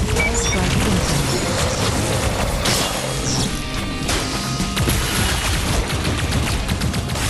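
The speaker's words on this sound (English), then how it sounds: "Airstrike incoming." Heavy airstrike explosions crash and rumble in the VR shooter Plasmaborne, a dense barrage of loud blasts and impacts running continuously throughout with no clear talk.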